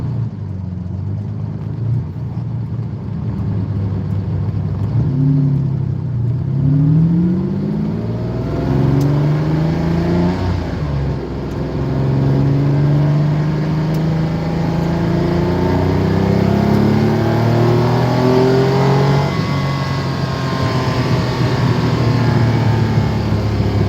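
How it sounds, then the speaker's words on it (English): Italian V12 in a Lamborghini Countach with a bone-stock exhaust, driving on the road: a steady, loud engine drone that rises and falls through the gears with smooth revving sweeps, heard from inside the car with no talk. "The sound of an Italian V12, that's for sure."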